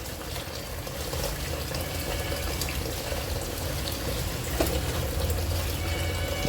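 Salted stinging catfish being washed in water in a home kitchen, a steady rushing wash of running water with faint splashing throughout, fairly close and continuous, no voices.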